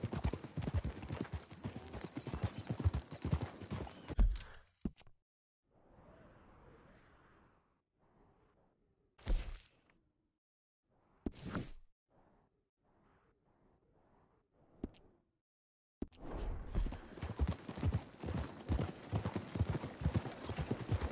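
Horse hooves in Red Dead Redemption 2 clip-clop in quick, loud bursts at the start and end, with a quieter stretch between holding faint hoofbeats and a couple of sharp thuds.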